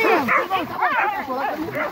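Hunting dogs bark and yelp excitedly in short, uneven bursts during a wild boar hunt, close and loud, with people shouting over them.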